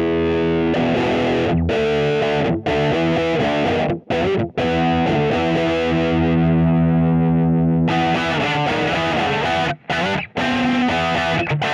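Gibson Les Paul electric guitar with humbuckers plays loud, heavily distorted classic rock chords and riffs, close and sustained, with a few brief stops between phrases.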